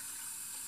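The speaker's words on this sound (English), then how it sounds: "I'm gonna add some water back here to my" Water runs steadily from a tap into a Stormtrooper mug used for shaving lather, a soft, even hiss that carries on for the whole moment without a break.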